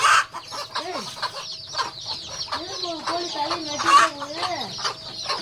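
Village chickens and chicks cluck and chirp nearby in short, repeated bursts, with several overlapping calls and a busy farmyard background.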